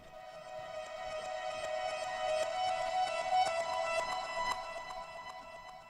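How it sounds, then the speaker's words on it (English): A piano trill played in reverse, a rapid repeating figure of swelling notes that build in steady pulses and cut off abruptly, with a warm analog tone, fairly quiet and heard alone. "We got some reverse piano stuff"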